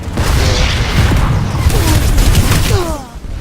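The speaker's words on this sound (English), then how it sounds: "I'll grab the grenade, try and get through" A grenade goes off in Planetside 2 amid loud, continuous booming game combat, a dense low rumble with bursts running through the whole stretch.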